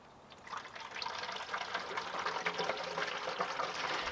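At an off-grid cabin, water runs into a container in a steady, gurgling stream that grows gradually louder and fuller, continuous and close by with no voices.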